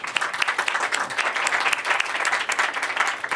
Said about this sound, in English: So give him a big round of applause.